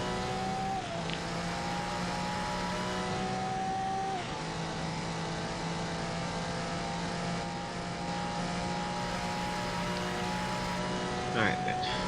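Race cars in the GRID video game at the Le Mans 24 Hours circuit, engines droning steadily with gear-shift pitch steps as they brake into chicanes on the long straight, continuous and loud throughout with a faint voice underneath.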